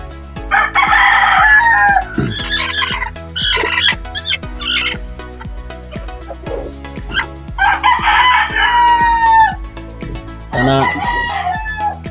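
Hens clucking and squabbling over laying nests in a backyard coop, loud and close, with repeated bursts of crowing and cackling over a steady rhythmic pulsing background, voices mixed in briefly.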